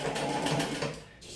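A sewing machine stitches a polo shirt sleeve, a brief close whirring run of rapid needle strokes that slows and stops near the end.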